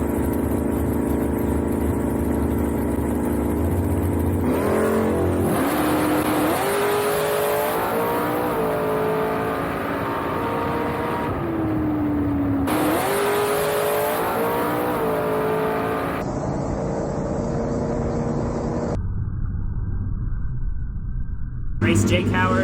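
A Super Pro class drag racing car runs a race round, with loud engine roar and revving and pitch sweeping up and down through several passes, mixed with talking over a noisy background.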